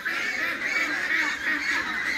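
Cherry Valley ducks being raised on a farm in northern Vietnam, calling as a flock with continuous nasal honking quacks, close and fairly loud, without talk.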